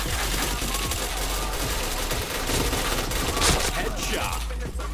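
Dense, rapid gunfire rattles nonstop in the video game PointBlank, a loud continuous fusillade of automatic shots with no pauses.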